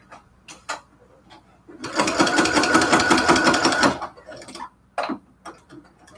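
A sewing machine stitches quilt curtains in a close, loud two-second burst of rapid mechanical chatter, framed by quieter clicks and handling noises before and after.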